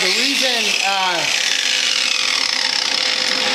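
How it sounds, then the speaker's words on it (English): Wire wheel scrubbing steel on a metal bucket before stick welding chain hooks on, a steady abrasive rasp running the whole time, loud and close, with a brief whining tone early on. "the reason I wire wheel as much as I can"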